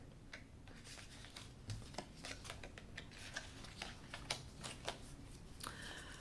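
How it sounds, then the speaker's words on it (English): Tarot cards being shuffled, with quiet, close, irregular flicks and riffle taps spread through a hushed room, no voices. "I'm going to shuffle now the tarot."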